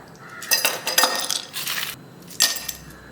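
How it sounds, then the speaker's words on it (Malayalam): A few bursts of hard clinking and rattling close by, like ice cubes tumbling into a glass, separated by short pauses. "ഐസ് ക്യൂബ് ഇടാം."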